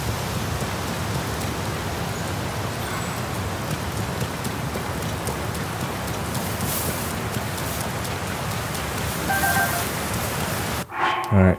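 Steady rain in the video game Zelda Tears of the Kingdom, a dense, even hiss of falling drops that runs continuously at moderate loudness before cutting off abruptly near the end.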